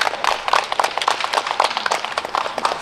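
Warm applause rises from a crowd at a filial piety cultural cherry blossom festival as the standing committee chairman comes forward. Dense, continuous clapping with many overlapping sharp hits holds at a fairly loud, even level throughout.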